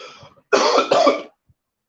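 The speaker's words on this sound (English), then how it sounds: "I'm still coughing" Two quick, harsh coughs close by from a person sick with pneumonia, back to back, followed by quiet.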